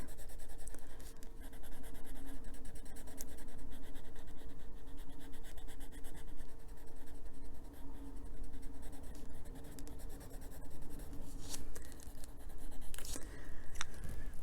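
Colored pencil is pressed hard against paper while burnishing and coloring, giving a close, continuous scratchy rubbing with rapid back-and-forth strokes and no talk.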